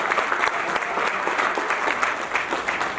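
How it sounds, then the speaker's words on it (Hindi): Loud, dense applause from a crowd in the KBN Medical College auditorium at a 2019 all-India mushaira poetry event, a steady unbroken clatter of clapping lasting a few seconds with no speech over it. "जोरदार तालियां"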